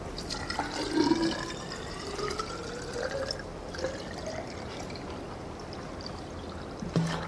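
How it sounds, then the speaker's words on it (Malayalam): Collected rainwater is poured from a rain gauge jar into a measuring cylinder, a close trickling and splashing stream of liquid with a few gurgles that fades to a thin dribble and ends with a faint knock. "ഇതെടുത്തിട്ട് നമ്മൾ ഈ ഒരു മെഷറിംഗ് സിലിണ്ടറിലേക്ക് ഇത് ഒഴിക്കുക."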